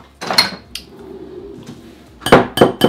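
A whisk scrapes and knocks through stiff, thick cream in a bowl for a cake, giving a few loud clattering strokes at the start and a burst of rapid clinks near the end, with a quieter gap between.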